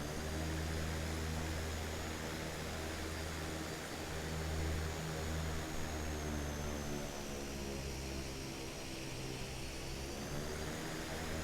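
Turboprop engines of a De Havilland CL-415 water bomber in a flight simulator, a continuous loud droning hum with steady propeller tones, held at high power throughout with no voices.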